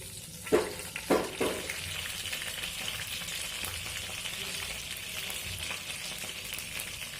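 Bay leaf and a dried red chilli drop into butter over a low flame, sparking a steady soft sizzle with a couple of brief louder bursts at the start, then an even crackle.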